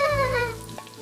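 Four medium chopped onions hit hot coconut oil and ghee in a pot with a brief, loud sizzle that eases off within about a second.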